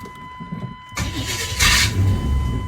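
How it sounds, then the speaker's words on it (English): Chevrolet K5 Blazer under restoration, its starter whirring briefly before the engine catches and fires up into a rough running rumble, close and alone with no talk. "Something weird about the starter, I'll have to figure it out, but it starts right up."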